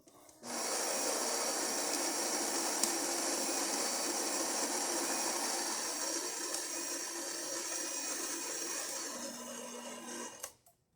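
A freshly serviced Saeco Incanto espresso machine runs a shot after a full tune-up, a steady loud pump drone and hiss lasting about ten seconds before cutting off abruptly.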